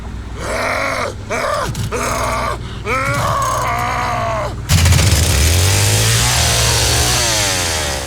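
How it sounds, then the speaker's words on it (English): In The Texas Chain Saw Massacre video game, growling and grunting vocal bursts come first, then a chainsaw engine fires up and revs loudly, its pitch rising and falling as the throttle opens and closes. "We built basically a replicated engine for the chainsaw, like you would for an engine for a car in a game, with revving and throttle on, throttle off"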